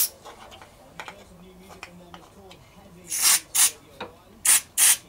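Short hissing bursts of aerosol spray go into the carburettor of a vintage Echo strimmer, four loud close puffs in the latter half after quieter clicks and handling noises.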